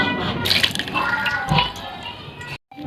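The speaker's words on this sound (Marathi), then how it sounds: "हा साबुदाणा छान भिजत ठेवला होता दोन तास आता याच्यातलं सर्व पाणी आपण काढून घेऊ" Water poured off sabudana after soaking, a close splashing and trickling stream that runs for a couple of seconds, then stops abruptly.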